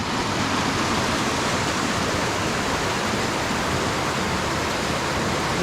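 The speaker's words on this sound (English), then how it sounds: "Look at the water running." Water rushes steadily along a stream in the Cape York region, making a dense, constant broadband roar. The sound is loud and close and holds evenly throughout, with no voices.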